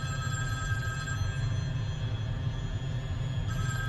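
A telephone rings in a Hindi-dubbed Hollywood action movie, a constant electronic bell tone held for several seconds over a low, dense background rumble, with no talking.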